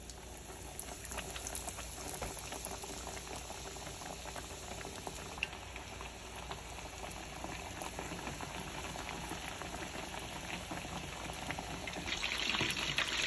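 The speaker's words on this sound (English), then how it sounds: "now we'll get to frying our chicken" A steady, dense sizzle and crackle of chicken frying in oil at about 350 to 375 degrees, continuous and close, growing slightly louder toward the end.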